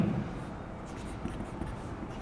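Pen or marker writing out notes during a Class 11 chemistry lecture on equilibrium, a steady soft scratching that runs through the whole stretch at moderate, close level with no speech over it.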